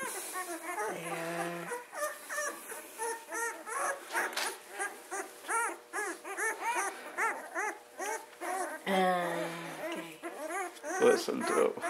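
Young puppies whimper and yip in quick, high, repeated cries, close by, with a person talking over them at times.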